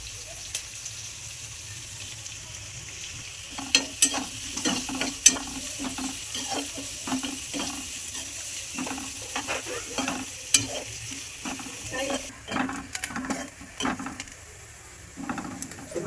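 Onions and curry leaves frying in a pan, with a steady sizzle and repeated scraping stirs of a spatula, close and continuous, and a brief hiss near the end.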